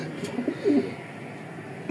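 Racing pigeons in a loft give a soft, brief coo close by, a couple of low throaty notes over quiet room background.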